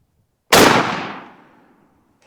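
A single loud shotgun blast from a 3.5 inch turkey load cracks sharply near the microphone and then decays into a fading rumble over about a second.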